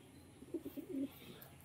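Giribaz pigeons give a short, soft run of low throaty coos, faint and close, with a quiet room murmur behind.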